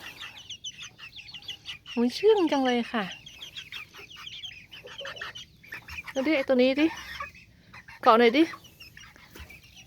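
Small Japanese bantam chicks give high, quavering clucks and peeps in a few short bursts, close up, while someone talks softly over them.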